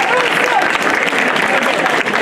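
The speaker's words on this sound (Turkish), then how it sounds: "Bütün sporcu arkadaşlarımız için şöyle güçlü bir alkış istiyorum sizlerden." A crowd at the Karacabey Longoz Marathon claps for the runners, a dense, steady wash of applause that is close and loud, with voices mixed in.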